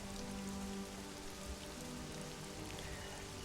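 Steady rain falls across a dark city street toward evening, a dense, even hiss of drops on hard surfaces, close and continuous, with a faint low hum underneath and no voices.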